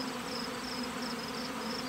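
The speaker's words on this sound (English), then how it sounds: "these bees are going out and they're gathering the syrup" Honey bees buzz around a nuc hive in late summer, a dense, continuous drone of many wings close by, with individual bees rising and falling in pitch as they pass.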